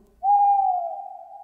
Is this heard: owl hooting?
yes